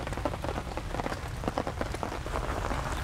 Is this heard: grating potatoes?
no